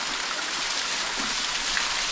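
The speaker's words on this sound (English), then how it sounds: "Mowers Waterfall." Mowers Waterfall roars as a steady, broad rush of falling water, loud and continuous throughout with no voices over it.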